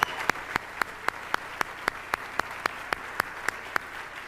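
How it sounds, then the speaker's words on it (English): At a MusiCares benefit event, an audience applauds with a clear, evenly spaced clap beat that stands out over a softer wash of clapping, moderately loud and without speech. "Please give him a big round of applause as well."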